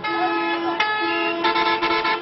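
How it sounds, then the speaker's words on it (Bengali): Passenger launch horns blown in protest at the Barisal river port, sounding as a steady, loud, overlapping chorus of sustained tones that swell slightly in the second half and never pause. "বরিশাল নদীবন্দরে ভেপু বাজিয়ে প্রতিবাদ জানিয়েছেন লঞ্চ মালিকরা"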